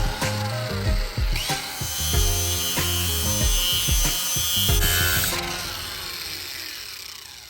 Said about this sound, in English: let's clean this up with a grinder. So I have a flap disc on here for metal, 60 grit